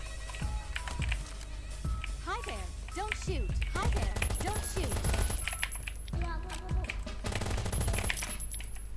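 Rapid bursts of gunfire in the survival video game Last Island of Survival, sharp and loud shots in quick volleys, with someone talking excitedly over the shooting and game sound effects throughout.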